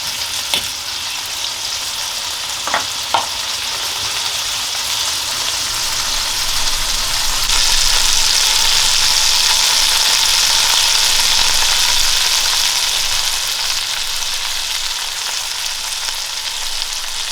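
A steak sizzles and fries steadily in a pan, with a few sharp knocks early on as it is flipped and a broad, even hiss that swells slightly midway.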